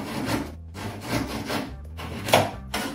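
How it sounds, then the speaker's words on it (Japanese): A handsaw cutting wood up close, rhythmic back-and-forth rasping strokes, about four in a row with brief gaps between them. "まあその日にやるんだったらもうノコギリでちょっと切ります"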